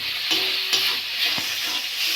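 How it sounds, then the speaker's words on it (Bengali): Masala paste sizzling steadily in oil while making a gagra fish curry, a continuous bright hiss with a few soft stirring scrapes and light clinks, close and alone. "মশলাটা কষা হয়ে গেছে, কি সুন্দর তেল ছেড়ে গেছে।"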